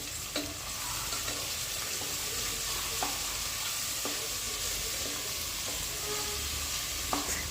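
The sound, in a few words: vegetables (carrot, beans, potato, peas, beetroot, cauliflower) frying in oil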